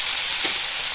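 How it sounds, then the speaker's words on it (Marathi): Cumin, mustard seeds and curry leaves crackle in hot oil in a kadhai for a cauliflower-potato tempering, a steady close hiss filling the second with a slight swell midway, no voices. "तेल घातले कढईमध्ये, तेल गरम झाले, जिरं मोहरी घालूया, कढीपत्ता घालूया, फोडणी"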